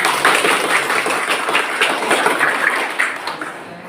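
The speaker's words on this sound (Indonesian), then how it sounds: "Oke, tepuk tangan dulu." Students in a classroom applaud on cue, a dense steady patter of many hands clapping at moderate loudness that tapers slightly toward the end.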